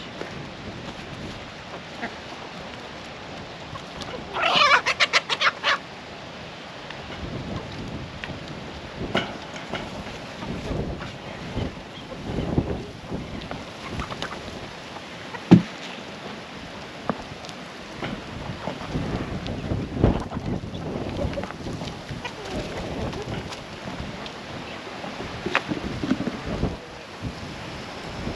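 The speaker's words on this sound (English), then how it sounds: "Sorry about the wind, guys. I don't know if you guys can hear it with this." Gusty wind buffets the microphone in a garden in uneven rumbling bursts, rising and falling throughout, with a brief louder crackle early on.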